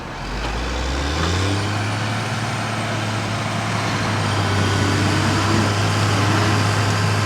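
A truck engine held in first gear strains to pull a bogged truck free, a loud, steady low rumble that rises as the load builds and holds for several seconds.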